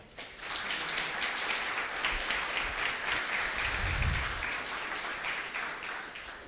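A large conference crowd at a tenth-anniversary political event applauds continuously, a dense, even wash of many hands clapping that holds for several seconds before easing slightly.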